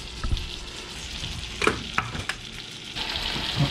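Fish fries in a pan on high heat right after the catch, giving a continuous crackling sizzle. A few sharp pops and spatters break through it, close and moderately loud, with no talking.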